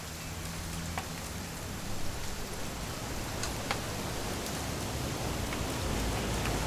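Continuous rainfall in the video game What Remains of Edith Finch hisses evenly across surfaces, with a few sharper drips standing out now and then and no talking.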